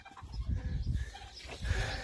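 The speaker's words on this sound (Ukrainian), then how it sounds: "Де курка виходить, курка" A chicken emerging from a coop on a small farm, with clucking and fowl sounds mixed among broadband rustling and low thumps, close and moderately loud over a busy yard background.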